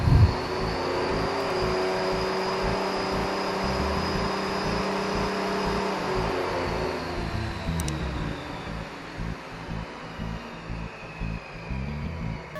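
A homemade DIY table saw's blade spins up close with a loud, steady whir and motor hum that holds nearly unchanged throughout, easing slightly toward the end.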